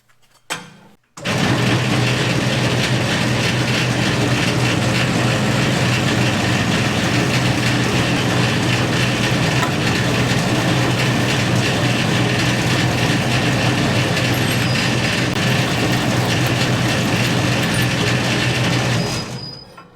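New, unusually loud bandsaw in a workshop, starting after a brief pause and then cutting in one continuous harsh, dense grinding roar for about eighteen seconds before stopping, up close and without talk.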